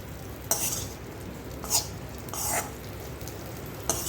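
Fenugreek seeds roasting in a hot kadhai with the gas turned off, faint background hiss broken by a few sharp scrapes and clinks of the spoon against the metal pan, close and sparse.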